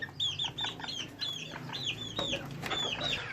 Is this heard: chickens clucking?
yes